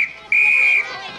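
A referee-style whistle sounds two sharp, loud blasts, a short one and then a longer held one, in a classroom where children are being called back to the carpet.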